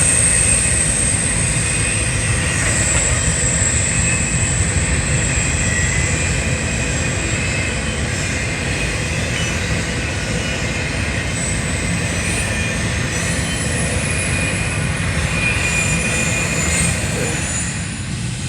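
CSX freight train rolling past on track under trackwork, a loud continuous rumble of wheels and cars with high steady squeal, sustained throughout and fading slightly at the end.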